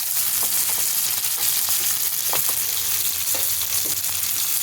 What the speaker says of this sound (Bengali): একটু নাড়িয়ে চাড়িয়ে কাঁচা লঙ্কাগুলো আমি দিয়ে দেবো